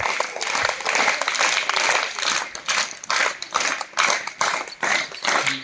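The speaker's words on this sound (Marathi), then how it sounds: "जोरदार वर हात करून त्याला टाळ्या वाजून शुभेच्छा द्यायच्यात" A school audience applauds steadily for a former student, many hands clapping in a dense, continuous wash for several seconds, with a faint voice now and then.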